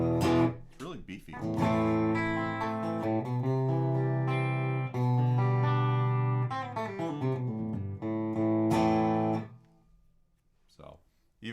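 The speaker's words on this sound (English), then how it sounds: "So, even sounds good with distortion pedals." Telecaster electric guitar run through distortion pedals, playing loud sustained chords and riffs at close range for about ten seconds before the notes die away.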